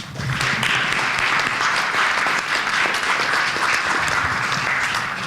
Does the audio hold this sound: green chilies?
no